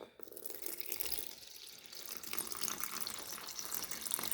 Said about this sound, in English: You put as much water as you want.